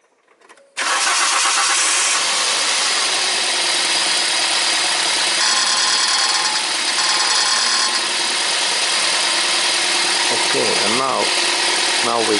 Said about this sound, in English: now I start this my engine, and we can see that this engine moves and vibrates